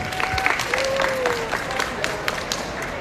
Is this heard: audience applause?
yes